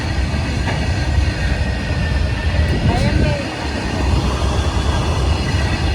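A goods train hauling coal rolls past with a loud, steady rumble and clatter of wagons that holds at the same level throughout. Some talk is mixed in beneath the noise.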